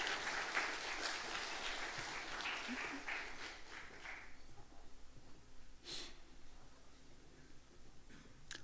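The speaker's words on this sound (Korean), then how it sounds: "박수해 주세요" Church congregation at a Sunday service applauding, a broad burst of clapping that fades away after a few seconds, leaving quiet room noise with faint breaths and a couple of short rustles.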